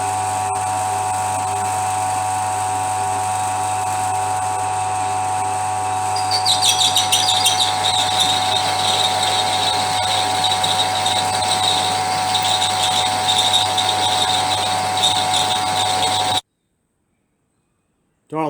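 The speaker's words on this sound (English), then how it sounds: "we've already got the holes drilled, so we'll just keep boring it out until we get the right size" A metal lathe bores out a BSA Bantam motorcycle part with a steady, close mechanical hum. A sharper high whine joins partway through as the cut bites, then the sound stops abruptly near the end.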